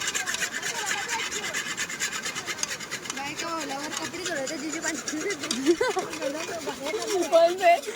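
Utensils and pots being scrubbed by hand at a riverside near a waterfall, a steady rasping rub repeated in short strokes, with people talking over it and rushing water behind.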